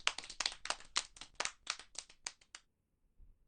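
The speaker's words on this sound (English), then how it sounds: "Applause. People enjoyed it." Applause from a video game, Robotics;Notes DaSH: a brisk burst of hand clapping lasting about two and a half seconds, close and fairly loud, then tapering off into near silence.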